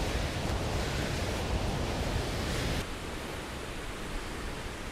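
Rushing water from the falls at Rhenass in Glen Helen, Isle of Man, roars as a steady, dense broadband wash, close and continuous, with a slight drop in level partway through.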